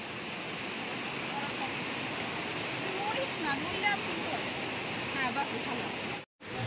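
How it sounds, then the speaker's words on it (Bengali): Water pours down at high speed like a waterfall beneath the Living Root Bridge in Meghalaya, a steady broadband roar with faint birdsong above it, cut off abruptly near the end. "ফলসের মতো হয়ে নামছে জলটা প্রচন্ড গতিতে"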